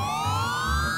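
A police siren in a GTA roleplay game wails with a rising, steady electronic tone, loud and close, alone over a faint low background hum.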